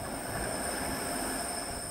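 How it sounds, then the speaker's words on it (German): A Bergen Railway train pulls out of the station in the early evening with a steady rolling rumble and faint high-pitched wheel squeal, moderately quiet and continuous. "Am frühen Abend verlässt ein Zug bei tiefstehender Sonne den Bahnhof zur Fahrt nach Bergen"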